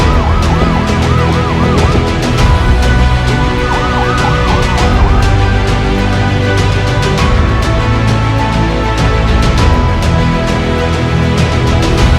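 An ambulance siren wails continuously and loudly during a winter emergency response drill, its rising and falling tones repeating over steady vehicle and crowd noise with no talk.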